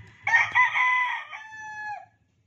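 A young stag rooster gives a single loud, close crow lasting nearly two seconds and ending in a drawn-out falling note.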